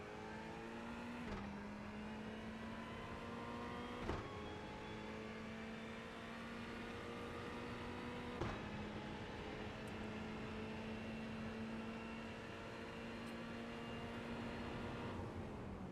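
GT3 race car in a racing video game, accelerating up the straight at Long Beach: a steady, loud engine drone with rising harmonics, punctuated by sharp gear-change blips every few seconds, no talk.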